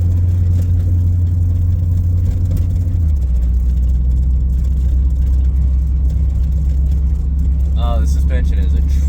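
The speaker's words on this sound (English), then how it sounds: "Going over these big speed bumps in the neighborhood" A Plymouth Barracuda with new coilover suspension rolls over large neighborhood speed bumps, its low engine rumbling steadily up close while the body and suspension thump, and a person talks over it.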